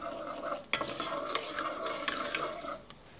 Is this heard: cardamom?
yes